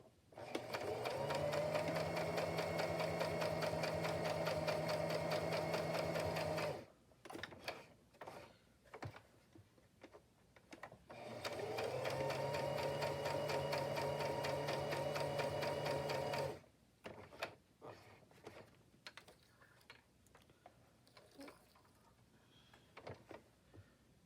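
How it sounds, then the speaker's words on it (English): A sewing machine sews a straight stitch and then a zigzag stitch, whirring in two sustained runs of about seven seconds each. Brief handling clicks and rustles separate and follow the runs. "I'm going to go straight stitch on the inside and then a zigzag stitch on the outer"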